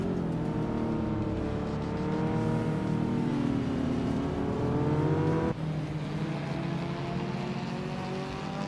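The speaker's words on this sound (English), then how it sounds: "T-Bomb and Amin-san are nose-to-tail fighting for that fourth spot." Racing cars in a video game race, two cars running nose-to-tail in a fight for fourth place, with loud, steady, layered engine whine and rising pitch throughout and a brief dip partway through, no talk.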